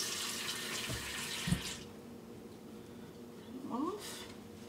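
Hands being rinsed under a running kitchen tap, a steady broad wash of flowing water for the first second and a half, then quieter with faint splashes and a brief rising squeak near the end.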